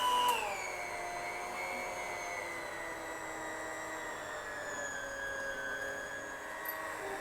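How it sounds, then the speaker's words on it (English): An electric mixer whisks chocolate cake batter with a steady, high whirring whine that holds evenly throughout, with a brief higher spin-up at the start and no talk. "So Meher, let's whisk it for 10 minutes."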